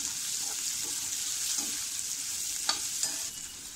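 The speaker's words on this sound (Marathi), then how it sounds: "ते सुद्धा छान परतून घेऊया आपण" Turmeric and seasoning sautéing in a pan over medium heat for fodnicha bhat, a steady close sizzle with a few soft stirring scrapes and clicks, no voices.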